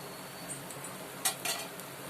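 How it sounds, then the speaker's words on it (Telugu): Pesarattu, a green gram dosa, frying on a pan over a low flame gives a soft, steady sizzle, with a couple of faint scrapes near the end. "సిమ్లో చక్కగా పెసరట్లు దోరగా వేగనివ్వండి"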